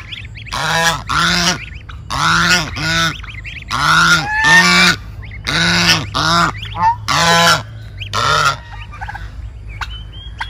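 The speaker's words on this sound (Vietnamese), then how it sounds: "Đây mình được 4 con ngỗng con." Four goslings honk close by in a rural Vietnamese yard, giving around ten loud, nasal calls in uneven bursts with short gaps, alone without talk.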